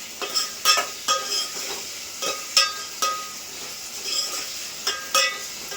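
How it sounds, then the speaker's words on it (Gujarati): Potatoes frying in hot oil for Maggi noodles, a steady close sizzle punctuated by regular sharp scraping clicks of a utensil stirring the pan. "બટેટા નાખી દીધા છે હવે એને થોડી પર ચડવાની"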